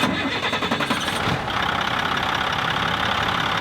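A big International truck's engine cranks with a rhythmic chugging, then catches and settles into a loud, steady rumble close by.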